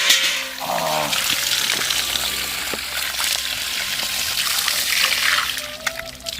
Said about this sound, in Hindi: बहुत ज़्यादा ठंडा पानी आ रहा है।